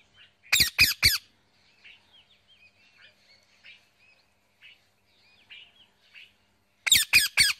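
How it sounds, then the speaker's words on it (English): A parrot squawks in two bursts of three sharp, loud, harsh calls, one at the start and one at the end, with faint chirps scattered through the quiet in between. "P for parrot."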